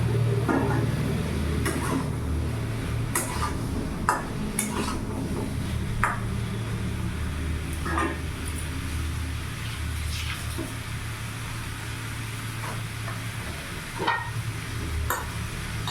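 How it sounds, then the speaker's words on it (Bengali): Fried potatoes are stirred into a pumpkin dish in a pan, producing repeated scraping and clinking strokes of a spatula over a soft, steady sizzle. "এবার ভালো করে নাড়াচাড়া করে নেব এবার ভেজে রাখা আলুগুলো দিয়ে দেবো"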